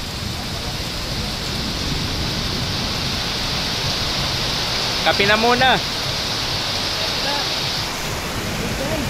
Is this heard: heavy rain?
yes